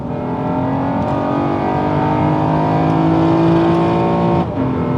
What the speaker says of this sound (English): I love the sound of Honda's J-Series VTEC.